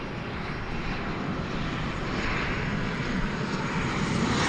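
An Alaska Airlines jet moving across a taxiway bridge at DFW Airport at daybreak, a steady broadband engine roar that swells slightly, with no one talking.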